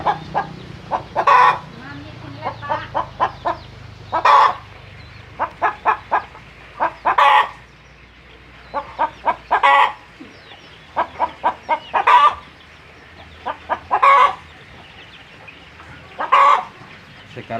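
A white free-range village hen clucks after laying, giving short repeated bursts of clucks in regular clusters every couple of seconds. The calls are close and clear over a quiet background.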